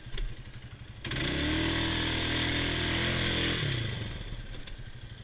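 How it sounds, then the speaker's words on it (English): A Polaris Scrambler 500 HO ATV revs hard to pull free of thick, sloppy mud. Its engine swells into a loud, sustained, close roar for a few seconds, then eases back down. "But the Scrambler ends up crawling right out of it."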